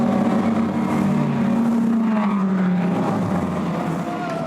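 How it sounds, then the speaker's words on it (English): GT race cars accelerating toward the checkered flag in the GT Cup at the 2019 FIA Motorsport Games, loud overlapping engine drones with one pitch sweeping downward as a car passes close by. "the cars accelerate up towards the checkered flag"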